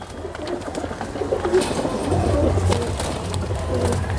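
Pigeons coo in soft, repeated low murmurs close by, with a few birds overlapping against a faint outdoor background.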